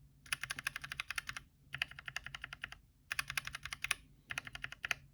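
Gateron mechanical keyboard switches, stock and lubed, typed in four quick bursts of crisp, rapid clacks separated by short pauses, close and fairly quiet with no voices.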